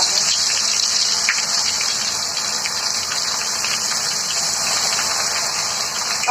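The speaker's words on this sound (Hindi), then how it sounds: "अब हम अपनी चना जोर गरम तलने का शुरू करते हैं।" Chana jor garam chickpeas fry in a hot kadhai of oil, giving a loud, steady, dense bubbling hiss that stays constant throughout with no voices.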